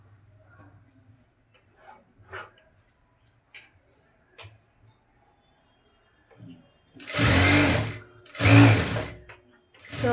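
A sewing machine stitches a blouse neckline. Soft scattered ticks and mechanical clicks give way to two loud, close bursts of running stitches near the end.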